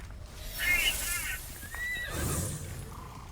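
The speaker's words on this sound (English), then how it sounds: "Aren't you a pretty horse?" A horse in the video game Immortals Fenyx Rising gives a clear, close whinny, a rising then falling neigh followed by a snort and breathy huff over faint background ambience.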